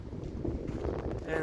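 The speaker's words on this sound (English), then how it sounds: "The wind's going to be crazy." Strong wind buffets the microphone outdoors on a walk, a dense low rumble and roar that fills the whole moment with no break.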